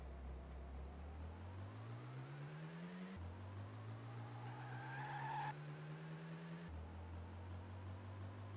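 Car driving in the Rising Star 2 video game: a steady engine drone rising in pitch through several gear shifts, with a brief hissing skid midway, close and continuous with no talk.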